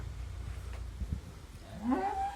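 A single cow in a cattle shed of about forty cows lets out one rising moo near the end, moderately close, after a quiet stretch of low barn rumble.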